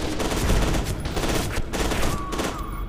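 Rapid gunfire from F.E.A.R. 2, a first-person shooter, with dense overlapping automatic shots and impacts continuing loudly through the whole stretch without speech.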